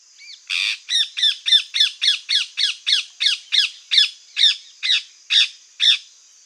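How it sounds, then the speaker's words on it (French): A rose-ringed parakeet squawks in a rapid run of about fifteen harsh, shrill calls, evenly spaced at first then slowing, loud and close with no other sound. "On retrouve néanmoins la perruche à collier, ici présente en photo."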